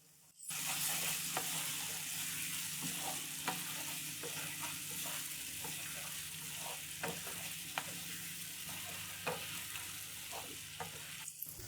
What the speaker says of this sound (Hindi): अब हम इसमें डालेंगे जो हमने आलू और बैंगन फ्राई किए थे, वो डाल देंगे। हल्के हाथों से हम मिक्स करेंगे।